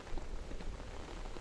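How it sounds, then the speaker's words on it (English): Rain falls steadily on a roof, a close, even patter with soft pulses throughout and no voices. "Knock, knock, tiny raindrops fall. Knock, knock, rolling on the roof."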